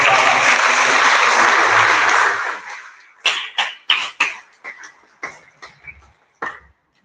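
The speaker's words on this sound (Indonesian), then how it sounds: "Tepuk tangan untuk" A Christmas morning Mass congregation applauds, a dense wash of clapping for a couple of seconds that falls away into scattered single claps and coughs in a quiet church.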